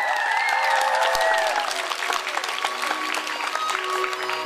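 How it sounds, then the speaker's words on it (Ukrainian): Children at a summer camp opening applaud together, a moderately loud burst of clapping mixed with tonal voices and music at the start, thinning slightly toward the end. "А ми аплодуємо табір супутник"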